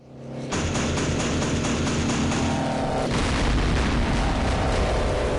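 Artillery fire explosions in the WWII strategy game Campaign Series: Rising Sun, set in the fall of the Philippines: a sudden loud, dense boom that swells into sustained rumbling blasts and bursts, continuous and close for several seconds.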